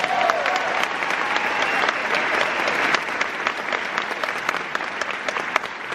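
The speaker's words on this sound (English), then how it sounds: "Give him a round of applause if you don't mind." A concert hall audience at a book reading and music event claps in a sustained, even round of applause that stays dense and loud throughout.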